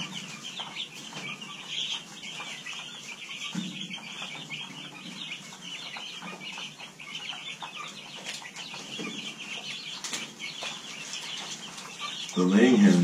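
Chickens on a farm, a mix of meat birds and laying hens, clucking and chirping steadily at a moderate distance, with a louder, closer burst of clucking near the end.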